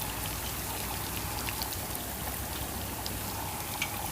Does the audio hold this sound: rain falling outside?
yes